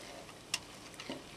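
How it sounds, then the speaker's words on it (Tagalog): Glutinous rice stirred in a pan over low heat, heard as two faint, brief scrapes about half a second apart against a quiet background. "Then, hahaluin natin na para tayong naghahalo ng suman."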